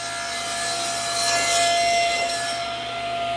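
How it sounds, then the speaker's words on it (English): Wooden board nudged lightly into a running saw blade to square it: a constant whining machine hum with a brief soft rubbing scrape as the wood touches the blade, steady and close. "I push it into the blade. There, you can hear it touching."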